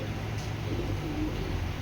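A racing pigeon gives a brief, soft, low cooing murmur over a steady background hiss, with no talking.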